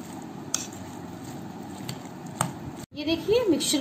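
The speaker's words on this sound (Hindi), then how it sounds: "अब हम इसको अच्छे से मिक्स कर लेंगे।" A spoon stirring a soy sauce mixture in a bowl gives steady soft scraping and clinking at close range, with a few sharper taps against the bowl, then a brief pause and a voice speaking over the end.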